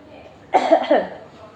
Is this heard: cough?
yes